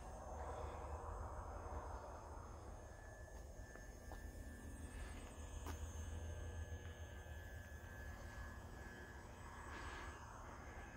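A Flite Test Scout radio-controlled model airplane flies overhead under power, its electric motor a steady, fairly distant drone that holds level with only slight swells, heard alone outdoors.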